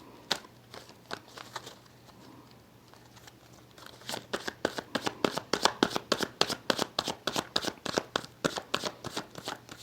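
Tarot cards shuffled by hand, a few scattered riffles at first and then a fast, steady run of crisp flicking slaps, close and clear with no voices.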